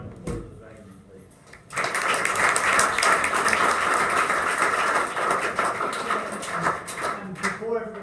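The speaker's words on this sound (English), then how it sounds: "have a round of applause for the Dragons, please." An audience gives the Dragons a round of applause at a project event, dense clapping that breaks in suddenly after a quiet pause and continues steadily for several seconds, with scattered voices and cheers mixed in before it thins out.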